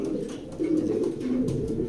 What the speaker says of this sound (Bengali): কবুতরগুলা মাশাআল্লাহ খুব ভালো কবুতর, বিডার কবুতর